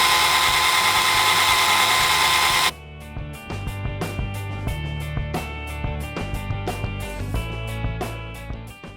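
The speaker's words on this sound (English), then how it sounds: "We're just gonna attack it with a regular drill" A loud, high-pitched power drill whines steadily for a few seconds drilling into a lamp, then stops, followed by intermittent clattering and knocking of tools nearby.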